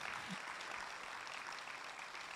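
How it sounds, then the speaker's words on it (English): Audience applause at a public safety gathering, a steady dense wash of clapping held at an even level throughout, fairly distant and uniform, with no clear voices over it. "So give yourselves a huge round of applause."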